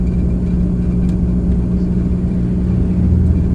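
A motorhome drives along a mountain road in China, giving a steady loud engine drone and low road rumble heard close from inside, with no talk.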